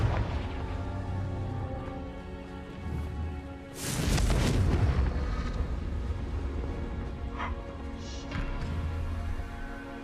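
A Confringo blasting spell explodes in a video game: one loud, broadband boom around the middle with a rumbling tail, over a steady game ambience and music bed.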